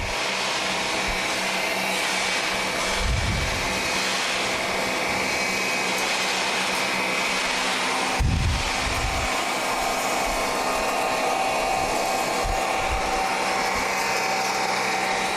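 A shredder chews through dry stevia in a dusty shredding run, giving a loud, steady motor roar with a gritty, whooshing texture and a couple of brief heavier thumps as material feeds through.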